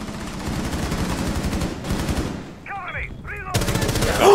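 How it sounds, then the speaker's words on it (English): Rapid gunfire in Rainbow Six Siege: close, loud automatic bursts crackling for about two seconds, a short lull with a brief chirping sound, then another loud volley at the end. "so you see the guy that was shooting me, and then you shot me"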